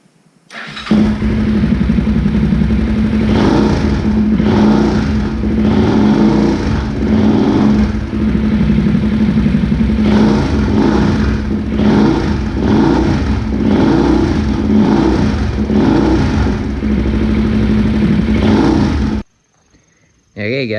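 A Honda 400EX ATV engine fires up and revs, loud and close, with repeated throttle blips rising and falling in a choppy rhythm before cutting off near the end.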